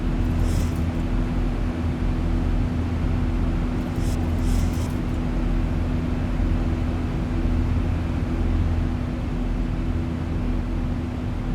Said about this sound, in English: Turn those engines down just a little bit.